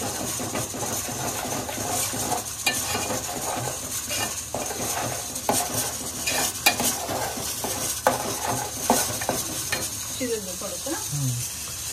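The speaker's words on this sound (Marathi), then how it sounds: "बघा आता मस्त त्याला उकळी बिकळी आलेली आहे" Malvani prawn curry bubbling and simmering in a pot, a steady busy bubbling texture with occasional stirring clinks of a spoon against the pot, close and fairly loud with no talking.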